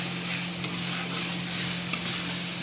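A spice paste of ginger, cumin, chili and onion fries in oil while being stirred for a potato and shola kochu curry, a dense, close, steady sizzle with faint occasional scrapes, no voices.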